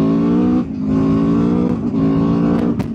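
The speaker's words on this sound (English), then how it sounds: "You really have to open the throttle and the front wheel wants to raise its little nose." Aprilia RSV4 1100 Factory sport motorcycle under open throttle, its engine roaring loud and close with a strong rising harmonic howl, a brief dip as a gear changes, then pulling hard again continuously.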